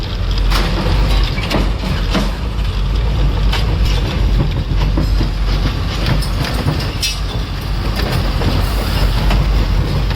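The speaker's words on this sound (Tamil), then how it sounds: "இது வெறும் ஸ்கில்டனோட போகிறதால தூக்கி தூக்கி போடுது" An empty truck hauling only a skeleton trailer without a container bounces along a road, producing a loud, continuous heavy rattle and clatter with metallic knocks and a low rumbling drone.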